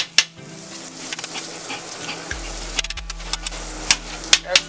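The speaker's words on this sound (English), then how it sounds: "I got my garlic butter there. Put in my egg real quick." An egg cracked onto a hot hibachi griddle with garlic butter sizzles and crackles steadily up close, with sharp clinks and scrapes of a metal utensil on the steel surface.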